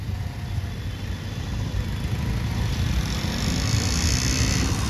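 A rain-soaked road jammed with traffic near Upvan lake in Thane on Ashadhi Ekadashi, where car engines idle in a continuous low, steady drone that swells slightly, close by and without talk.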